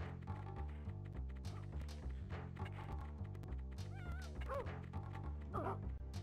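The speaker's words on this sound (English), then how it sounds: "Oh, the dog." A dog barks and lets out high whimpering yips over loud, busy rhythmic game music, with several short whines near the end.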